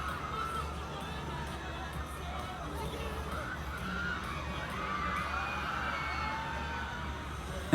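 An excited crowd cheers and screams continuously through a P-pop performance on Wish 107.5, with high shrieks rising over a steady roar of voices.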